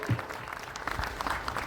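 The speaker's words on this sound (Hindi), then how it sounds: "तालियां बजती रहनी चाहिए" Applause at a tribal people's grand convention, a steady even patter of clapping that lasts throughout, moderately loud and fairly close.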